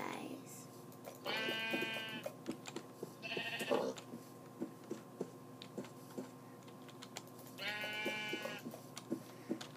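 Sheep bleating in a survival video game, two drawn-out bleats standing out over a steady hum and scattered clicks, with someone talking briefly.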